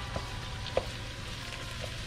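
Sausage browning in a pan gives off a soft, steady sizzle with a few faint pops, close by and fairly quiet, with no voices over it.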